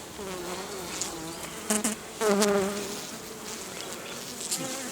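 Honey bees buzz steadily and densely close by, a continuous droning hum with a few individual insects flying louder past.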